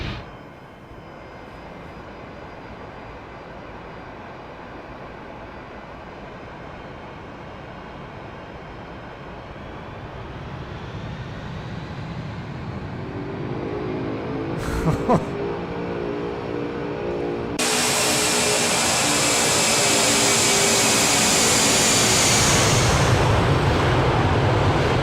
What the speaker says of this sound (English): I want to hear the engines on this one.